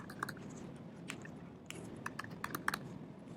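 Light tapping on a computer keyboard, a few scattered clicks and short bursts of keystrokes, faint and close with no talking.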